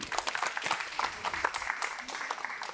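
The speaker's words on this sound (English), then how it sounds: "Okay, give a big cheer." Audience applause with some cheering fills a conference hall after a talk by a product director, steady dense clapping throughout at moderate volume.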